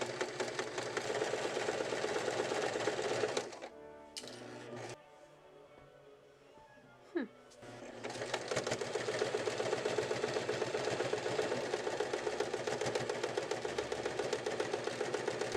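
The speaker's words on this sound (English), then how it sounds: "I put my stitches to the longest length, then went up and down every line to create the quilted effect." Sewing machine quilting thick Christmas stocking fabric on its longest stitch length, a steady loud mechanical whirr running on, pausing for about four seconds with a faint click, then resuming for a long continuous stretch.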